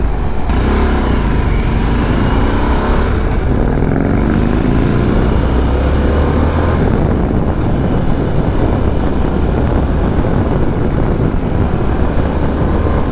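A 2024 Harley-Davidson Sportster S RH1250S pulls hard on a ride, its rising engine note half buried in loud, constant wind rush.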